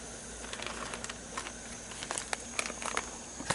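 Wort boils in a brew kettle with a dense, steady hiss and scattered crackling pops, close and continuous throughout.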